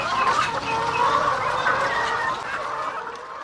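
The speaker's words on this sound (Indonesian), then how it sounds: "Di kandang ini ribuan ayam petelur dipelihara Arifin" Thousands of laying hens cluck and murmur in a crowded coop, a dense, steady chorus of overlapping calls with no pause, heard fairly close.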